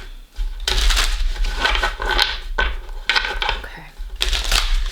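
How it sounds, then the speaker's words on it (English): Tarot cards are shuffled close up in several bursts of brisk riffling and crisp papery flutter, with short pauses between them and no talking. "Give you a couple shuffles"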